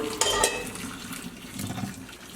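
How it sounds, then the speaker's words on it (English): Spinach and water poured into a kitchen strainer, a brief splashing gush up front that trails into gentle dripping and trickling, close by with no talk. "So we're just going to pour our spinach into a strainer, let it strain a little bit."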